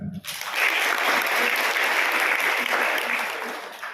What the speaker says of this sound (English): Once again, as a token of our regards, you be clapping the man.